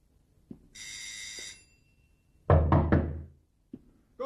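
Someone knocks on a door in three quick, loud raps, near and hard, with a few single taps before and after and a brief tonal ring earlier in the quiet room.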